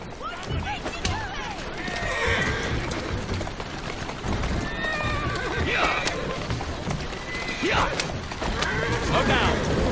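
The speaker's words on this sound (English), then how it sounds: "I think I will snag myself one of these carriages." Horse-drawn carriage in the Assassin's Creed Syndicate video game, with repeated loud neighs and whinnies over rolling hoof clip-clop and wheel rumble, close and busy throughout.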